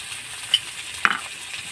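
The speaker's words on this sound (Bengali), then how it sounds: "আমি এখানে দুই এক মিনিটের মতন ভাজা ভাজা করে নেব" Soft sizzle of onions frying in a pan with a couple of brief stirring scrapes and clicks; quiet and continuous, no voices.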